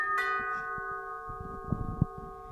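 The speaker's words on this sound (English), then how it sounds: "Who's ringing the doorbell at this time of night?" A single bell strike rings out and its tones hang steadily in the air, fading slowly while soft low thumps and rustling occur underneath.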